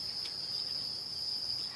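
Crickets raised on an insect farm chirp in a high, steady, continuous trill, fairly soft and alone without voices.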